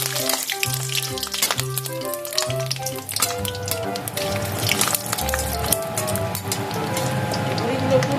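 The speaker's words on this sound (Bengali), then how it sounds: "তেলটা গরম হয়ে গেছে, এখন আমি বড়িগুলো ভেজে নেব।" Lentil bori (biuli dal) fry in hot oil, giving a dense, continuous crackling sizzle close by, with steady bubbling and spatter throughout and a low hum underneath.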